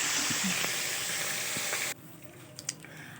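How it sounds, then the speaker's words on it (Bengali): Hilsa fish heads fry gently in oil, giving a steady close sizzle for about two seconds before it abruptly cuts out, leaving a few faint clinks and light kitchen sounds. "এদিকে মাথাগুলো ভেজে নিচ্ছি আলতো আলতো করে খুব কড়া ভাজবো না"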